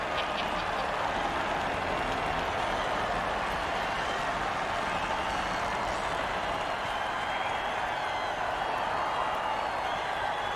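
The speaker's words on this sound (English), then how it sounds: "Oh, crowd's loving it." Broad, steady roar of a video game stadium crowd in Mutant Football League cheering continuously, dense and loud throughout with no clear pauses.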